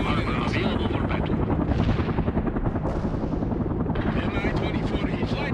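An Mi-24 attack helicopter in the video game World in Conflict: a loud, continuous rotor and engine roar with steady rhythmic chopping, mixed with a voice speaking over it and some battle noise in the background.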